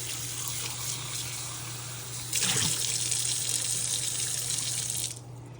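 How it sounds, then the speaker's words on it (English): Tap water runs steadily into a sink as a bowl is rinsed, a close hissing stream that grows louder and splashier midway, then cuts off near the end. "And then we can take this out to the sink. And dump it. Give it a nice rinse."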